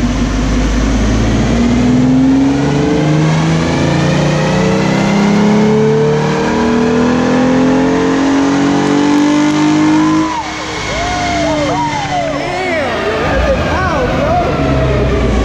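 A car on a dyno revs hard and loud to 7,000 RPM through a loud exhaust, pitch climbing steadily through the gears, then drops and surges again in sharp bursts of throttle.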